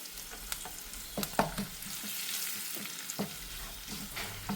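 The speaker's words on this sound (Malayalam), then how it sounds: "നന്നായി ഇളക്കി കൊടുക്കുക" Soya chunk pickle stirred in a hot pan, with close, continuous sizzling and frying and intermittent scraping strokes of a spoon against the pan, without any talking.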